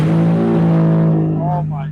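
A Mazda car's engine idles and rumbles loudly up close while being driven onto a scale, a steady low drone with people talking over it.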